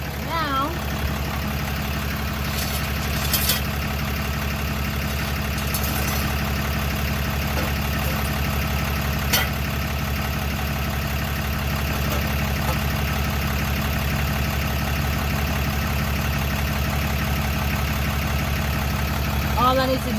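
A Ram 3500 with the Cummins 6.7 diesel, just repaired with a new DEF pump, idles steadily and continuously close by, a low even rumble throughout.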